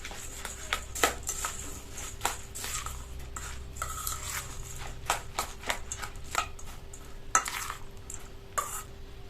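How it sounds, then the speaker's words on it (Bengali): A spoon mixes puffed rice with mustard oil and two eggs in a bowl, giving a steady run of close, soft crunching and rustling with frequent small clicks of the spoon against the bowl. "এবার সবকিছু একটা চামচের সাহায্যে ভালো করে মিশিয়ে নেব।"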